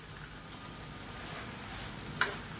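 Curry leaves, coriander, mint and grated coconut crackle in a pan over gas, a low steady sizzle broken by a couple of faint stirring clicks, with no voices.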